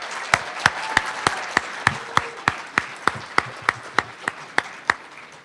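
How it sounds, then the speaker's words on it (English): An audience at a university award ceremony claps together in a steady, even rhythm, about three claps a second, loud and close over a soft murmur. "Let's give them another round of applause"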